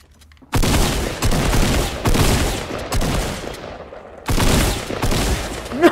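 Close, loud bursts of automatic assault rifle fire in the video game Fortnite. There are several separate volleys with short breaks between them.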